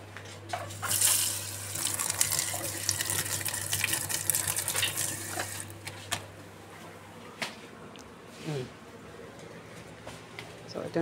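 Tap water runs into a sink while green onions are washed under it, a soft steady splash for several seconds that then thins to occasional drips and handling sounds, with a voice talking over it.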